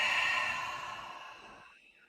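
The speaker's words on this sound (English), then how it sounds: "as you noisily exhale" A single long, noisy breath out during a stretch, loud and airy at first and trailing off gradually into quiet.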